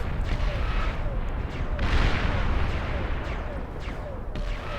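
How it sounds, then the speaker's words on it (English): Many tactical missiles launching at once in the strategy game Beyond All Reason, a dense rumbling barrage of booms and whooshes with a heavier burst midway, continuous and loud. "with all of these tactical missiles firing at once, desperately attempting to take out this Krogoth"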